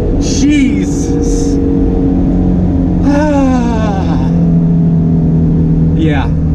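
A 2019 Ford Mustang GT with the PP2 package accelerates hard through third gear, the engine note climbing in sweeping pitch rises loud and close, with someone talking over parts of the run.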